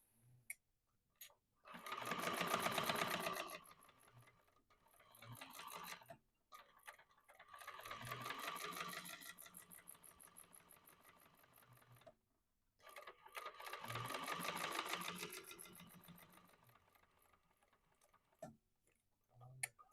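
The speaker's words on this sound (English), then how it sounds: "I'm going to stitch around the short side again and go in with that larger seam allowance decorative stitching" A sewing machine runs decorative stitching along the short side of a quilted Twilight Traveler project with a wide seam allowance. Three long, steady whirring bursts are separated by brief pauses, close and clear with no talk.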